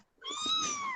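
A recently weaned kitten gives a single clear, high-pitched meow lasting nearly a second, close and steady in tone.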